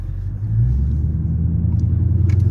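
Straight-piped Dodge Charger R/T widebody with a 5.7 engine idling while warming up, a deep, loud, close rumble that swells slightly early on then holds steady with a throbbing low pulse.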